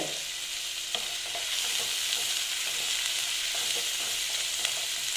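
Ginger fries in hot oil in a pan for a fish curry, a dense steady sizzle close by, with light scattered taps of stirring.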